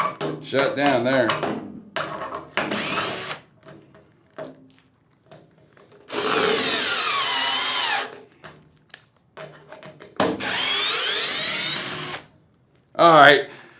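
A Hercules screw gun from Harbor Freight runs in drill mode in three loud, close motor whirs of roughly two seconds each, spaced apart, with someone talking between the bursts.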